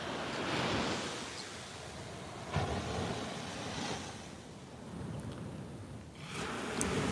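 Ocean surf breaks and washes steadily onto a beach, a continuous broad roar with swells rising and falling and no voices.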